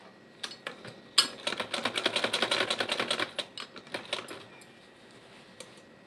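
A sewing machine stitches a baby dress skirt in one quick, rhythmic run of fast stitches lasting about two seconds, framed by a few scattered clicks before and after in an otherwise quiet room.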